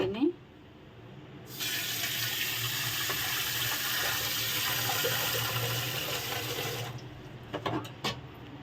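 Water pours steadily from a tap into an idli steamer vessel, a loud, continuous rushing stream lasting several seconds before it stops, followed by a few small clinks.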